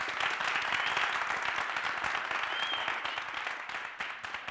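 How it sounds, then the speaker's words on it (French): Steady applause from an audience, dense and continuous clapping that gradually thins out near the end. "Je crois qu'on va s'applaudir plus fort que ça."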